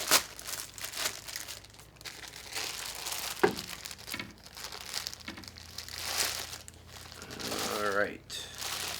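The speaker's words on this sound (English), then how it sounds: "Begin to unwrap it." A heavily greased item being unwrapped from its wrapping, with continuous crinkling and rustling of the wrapper close up while a voice talks faintly.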